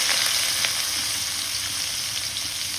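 Chopped onions hit hot oil in a pan while cooking a Katla fish curry, giving a steady, dense sizzle that holds evenly throughout, close and fairly loud, with no talking.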